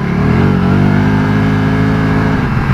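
A Can-Am Spyder with a custom Power Commander V tune accelerates hard in second gear, a loud, close engine roar with rising pitch that holds steady, then eases slightly near the end.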